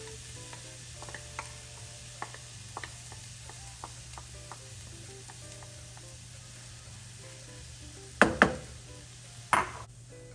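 Mushrooms and onions sizzle steadily in a pan over lowered heat for shepherd's pie, with scattered utensil clicks and scrapes and two sharp louder clatters near the end.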